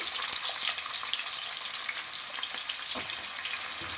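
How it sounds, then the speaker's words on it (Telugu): Chopped onions hit hot oil in a pan for an onion chicken fry, giving a soft, even, continuous sizzling hiss with faint scattered crackles, fairly quiet and without voices. "ఇప్పుడు మనం ఏం చేద్దామంటే కట్ చేసి పెట్టుకున్న ఉల్లిపాయలు అయితే వేసేసుకుందాం"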